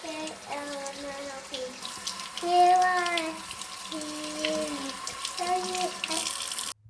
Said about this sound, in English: You'll want to use warm, soapy water and scrub for 20 seconds